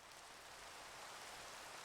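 Steady rain hiss in a Minecraft world, a continuous broadband patter of drops falling at an even level throughout, with no voices.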